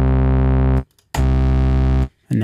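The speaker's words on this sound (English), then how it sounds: "So we've got some tube distortion." A buzzy synth sample, heavily distorted with a tube distortion effect, plays in two sustained bursts separated by a short gap, thick and gritty with a fat low end.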